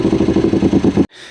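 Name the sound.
fake V8 engine sound played through car speakers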